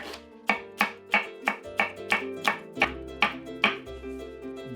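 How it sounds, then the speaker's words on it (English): A knife slicing through hot peppers on a cutting board for pili pili hot sauce, about a dozen crisp, evenly spaced chops heard up close and alone, with no voices. "Slice all the peppers."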